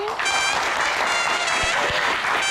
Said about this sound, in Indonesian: Mas Ade, tepuk tangan sekali lagi